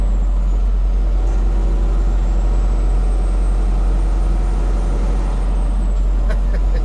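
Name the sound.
truck engine responding to throttle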